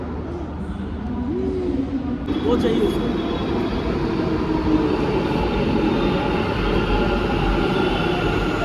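A metro train in Bangalore rumbles steadily along the tracks, a loud continuous roar that grows slightly fuller after a couple of seconds.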